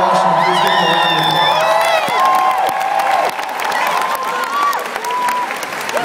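A concert crowd at Brixton Academy applauds loudly and continuously for a band, with whoops and whistles rising above the dense clapping.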